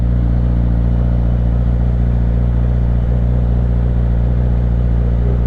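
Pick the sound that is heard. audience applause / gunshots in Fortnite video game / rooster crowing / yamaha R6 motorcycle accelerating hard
yamaha R6 motorcycle accelerating hard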